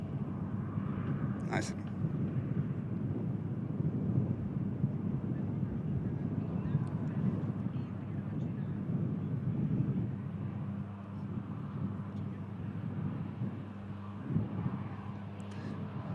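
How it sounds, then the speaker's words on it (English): A Loganair Embraer airliner inbound from Inverness, its distant low jet rumble and wind noise held steady throughout at a plane-spotting site, with someone speaking briefly over it. "It's the Logan Air Embraer coming in from Inverness"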